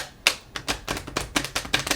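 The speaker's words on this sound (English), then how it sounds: "these big old cards be difficult to shuffle" Large oracle cards being shuffled by hand, a run of crisp papery riffles and taps in an uneven rhythm, close and fairly loud with no talking.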